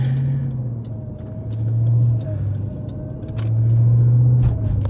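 A car travels along a desert parkway in Hurricane, Utah, heard from inside as a steady low engine rumble that swells twice as it accelerates, with light road noise and small clicks, no talk.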